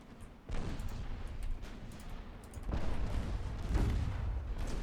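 Naval gunfire from warships engaging a light cruiser in the Ultimate Admiral Dreadnoughts game: low, rumbling booms of salvos rolling into one another, with a heavier barrage swelling in the second half.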